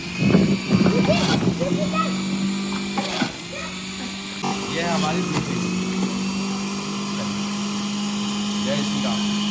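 An electric juicer extracting carrot juice runs with a steady motor whine and hum throughout, while someone talks over it at close range.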